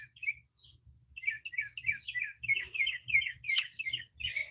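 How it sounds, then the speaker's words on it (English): Birds chirp and trill in a flower garden, a run of quick, bright tweets and short song phrases close by, with faint low rumbling underneath. "Listen at the birds, y'all."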